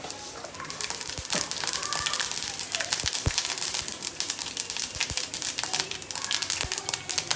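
Mustard seeds pop and crackle in hot coconut oil in a pan, producing quick irregular snaps and sputters close by, with faint background sounds.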